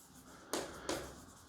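Two quick strokes of chalk or marker writing on a board, soft and close in a quiet room, each a brief scratchy swipe less than half a second apart.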